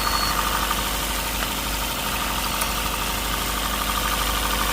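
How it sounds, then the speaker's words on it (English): A 2014 Honda Grace Hybrid with a misfiring engine idles with a steady, loud mechanical drone and a faint uneven knock running underneath, close and with no talking. "you hear the misfire on the vehicle"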